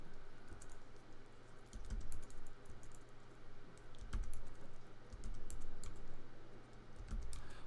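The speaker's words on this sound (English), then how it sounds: "By typing in new values." Values are typed on a computer keyboard in quick irregular bursts of clicking keystrokes, close and fairly soft, with brief pauses between runs and a low background hum, no speech.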